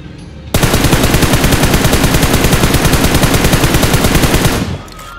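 Sustained automatic gunfire from a mobile shooter game, a rapid even stream of shots fired nonstop for about four seconds, loud and close, then cutting off abruptly with no talking.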